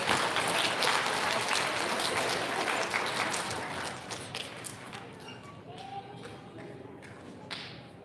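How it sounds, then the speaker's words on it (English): Elementary school recognition ceremony crowd applauding transportation award winners, a dense wash of clapping that starts loud and slowly thins out over several seconds. "Big round of applause for all of our transportation awards."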